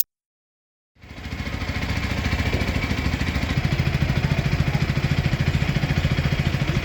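Silence gives way after about a second to a motorcycle engine starting up and settling into a steady, close, rhythmic idle that runs to the end.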